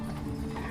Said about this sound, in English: Now that carriage over there that has just turned into the Grand Hotel, that is a lovely high-stepping hackney horses